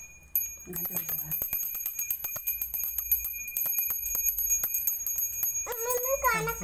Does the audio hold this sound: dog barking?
no